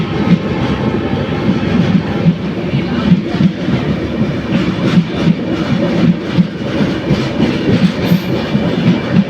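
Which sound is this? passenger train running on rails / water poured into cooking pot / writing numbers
passenger train running on rails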